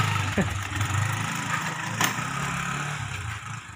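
A TMX motorcycle engine with a burnt stator runs steadily at idle, a low continuous rumble with brief clatters and a faint background voice.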